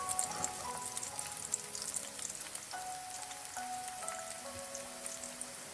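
Spring onions sizzle gently in hot oil while being stirred, a faint steady crackle with scattered small pops and no voices.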